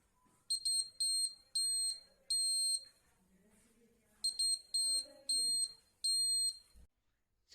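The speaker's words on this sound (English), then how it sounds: "1 minute has passed and it has started beeping" A high electronic timer alarm beeping in repeated clusters of short tones, a pause, then more clusters, with faint voices murmuring underneath.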